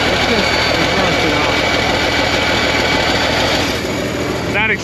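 The engine of an abandoned International Harvester IH 4166 tractor with a rusted-off turbo exhaust runs steadily close by, a loud, dense rumble that carries through without a break.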